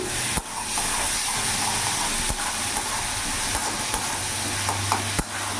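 Ginger-garlic-chili paste is stirred into katla fish frying in a pan for a fish-and-peas curry. A loud, steady sizzle and hiss runs throughout, broken by several sharp knocks and scrapes of the spoon against the pan.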